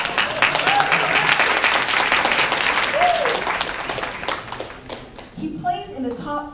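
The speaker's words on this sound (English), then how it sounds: "Yes, let's give him a round of applause." Dense applause from an audience greeting a public speaker at a session on overcoming challenges, loud and sustained for about five seconds before thinning out as a voice begins talking.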